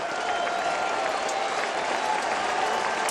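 A sellout baseball crowd at a Rockies versus Brewers game applauds and cheers in the ninth inning, a steady, dense wash of clapping and crowd roar filling the whole stretch.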